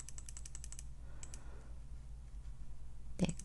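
A quick run of crisp key presses on a computer keyboard while working in Excel, a few isolated clicks following after a pause, faint and close.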